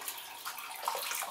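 Hot water, slightly hotter than the mash at around 70 degrees, slowly poured from a jug over an all-grain brewing mash for sparging, giving a soft continuous splashing trickle, close and fairly quiet.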